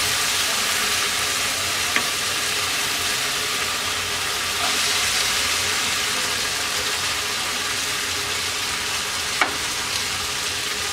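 Spices sizzle loudly in a pan as chickpea lentils go in, a continuous close hiss with a couple of faint clinks, no voices.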